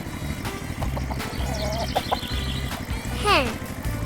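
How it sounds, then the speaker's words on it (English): A hen clucks in short bursts and a rising squawk stands out near the end, all set against a steady rhythmic music bed, with a voice heard in between. "Hen."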